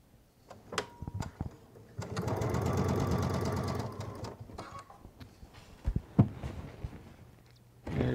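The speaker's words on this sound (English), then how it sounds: "I'm gonna put in my regular plate and I'm gonna do a straight stitch." A Baby Lock Solaris sewing machine runs a straight stitch with a regular plate fitted, a steady whirring, rapid needle clatter lasting about two seconds, framed by softer clicks and handling noises nearby.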